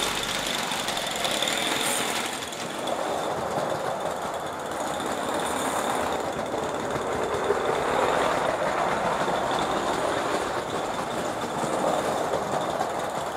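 Aster gauge 1 live-steam Titfield Thunderbolt locomotive running on a fraction of regulator, hauling Meccano wagons indoors; a steady, continuous rumbling chuff and rolling hiss with a faint high whine, moderately close and without talk.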